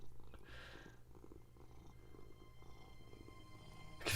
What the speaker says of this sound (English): Just sitting here purring.